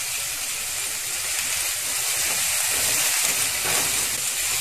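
Mushrooms and butter sizzle steadily in a hot pan for mushroom soup, a continuous close hiss of frying with no talk over it.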